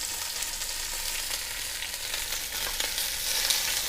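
Beef short ribs searing in a hot pan, a loud, continuous, close sizzle and crackle of fat that holds steady throughout with no voices.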